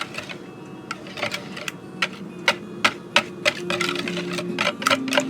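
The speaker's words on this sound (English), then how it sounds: "we're going to whisk that until it is just blended" A whisk beats eggs in a bowl for quiche, making a quick run of light, regular clicking taps against the bowl's sides, fairly close and steady with a low hum underneath.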